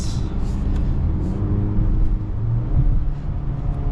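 A Mazda CX-5 in sport mode accelerates through its gears from second to sixth, the engine note rising and dropping with each shift, loud and close from inside the cabin.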